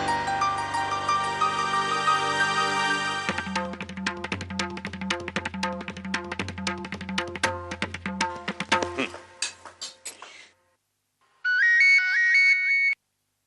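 An incoming call sets off a phone ringtone, a bright electronic melody playing loudly in repeated phrases. It stops after about ten seconds, and a shorter burst of the tune sounds again after a brief silence.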